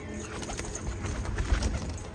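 Punjabi pigeons kept for sale cooing softly at close range, low throaty murmurs repeating under a faint background hum.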